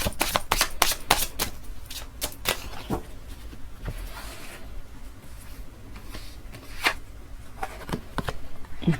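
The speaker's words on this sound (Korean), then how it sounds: "추가 카드 더 뽑아볼게요." Tarot cards are shuffled and drawn by hand, with a steady series of close, crisp card snaps and flicks and softer rustling in between.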